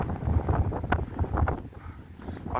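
Strong gale-force wind in the Australian mountains roars as a continuous loud, gusting rumble with rushing buffeting surges, heard alone.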